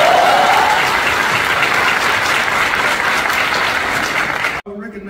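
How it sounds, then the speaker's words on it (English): An audience at a correctional officer cadet graduation ceremony applauds loudly in a thick, sustained wave of clapping that cuts off abruptly near the end, where a voice begins speaking. "let's give them a round of applause"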